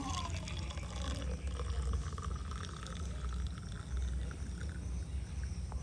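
Boiled water poured into a container, a continuous close liquid splash and trickle with a faint rising tone at the start, steady throughout.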